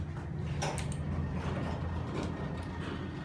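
Big doors of a ThyssenKrupp hydraulic elevator at a South Padre Island resort hotel slide open at a floor stop, a close mechanical rumble and scrape against steady cabin hum.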